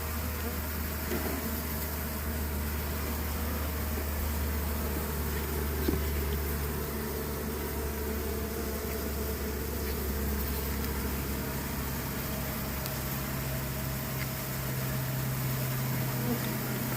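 Honey bees buzz continuously around a tote-style swarm trap box, a dense, steady hum from many insects close by that persists throughout.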